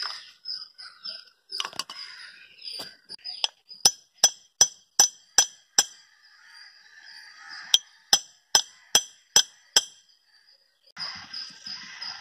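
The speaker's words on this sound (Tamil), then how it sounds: "இந்த மாதிரி தட்டினீங்கன்னா இது இந்த மாதிரி வந்துடும்" Metal tapping as an old bearing is knocked out of a TVS King auto-rickshaw axle, sharp ringing clinks in an evenly paced run of about a dozen blows, near and loud, with short pauses and no talk.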